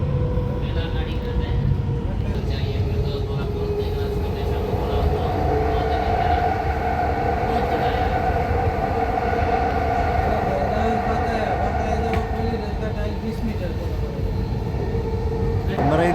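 A Dubai Metro train rides along with a steady, loud rumble of wheels on rails and a sustained tonal whine, continuous throughout, with faint background voices in the carriage.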